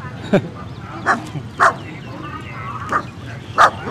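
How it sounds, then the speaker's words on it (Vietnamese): A dog barks at a passer-by near a rural market in An Giang, Vietnam, giving five sharp, spaced barks at a moderate distance over faint outdoor background noise. "bên đây có con chó nó sủa em nãy giờ"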